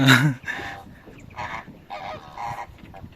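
Flamingos calling at Bhigwan Lake: a run of loud, nasal, goose-like honks comes in several separate bursts, starting close and strong and then repeating a little softer over a faint background.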